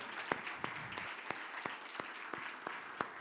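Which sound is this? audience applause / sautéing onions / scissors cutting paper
audience applause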